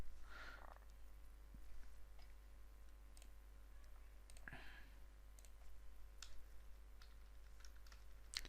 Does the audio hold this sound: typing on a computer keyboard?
yes